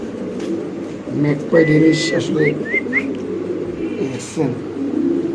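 Spanish pouter pigeons coo in low, throaty bursts close by, mixed with a few whistly chirps, while people chat nearby.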